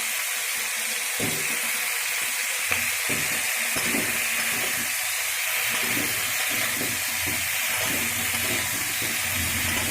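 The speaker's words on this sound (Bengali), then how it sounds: "এরকমভাবে তেলের উপর সব সবজিগুলো ভেজে নেওয়া হচ্ছে।" Mixed vegetables fry in hot oil in a pan, a loud, steady close-up sizzle and hiss with bursts of crackle and occasional stirring scrapes, continuous throughout with no talk.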